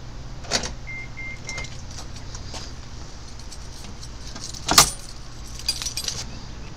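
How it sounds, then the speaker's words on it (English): Car keys for a 2015 Nissan Leaf jangle in a few light metallic clinks, then one sharper, louder rattle midway before fading into quiet handling noise, with no talk. "Let's grab the keys here."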